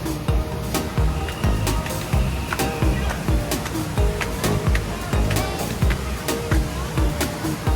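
Water churns and sloshes steadily through a lazy river at the Westgate Kissimmee water park in Orlando, a continuous rushing wash with splashes and busy crowd noise and voices mixed in throughout.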